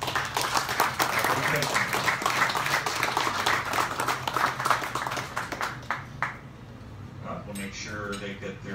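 Audience applause for an award winner at a business awards event, steady clapping from a gathered crowd that thins out toward the end as someone begins speaking.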